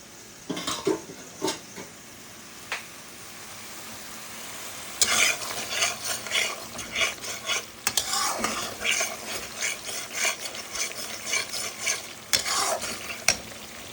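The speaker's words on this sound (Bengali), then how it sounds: "মশলাটা ভাজা হওয়া পর্যন্ত অপেক্ষা করছি" Spices fry in a pan for a moong dal with pumpkin, giving a soft background sizzle broken by bursts of scraping stirs and clinking utensil strikes against the pan. The stirring grows busier in the second half, with no talking.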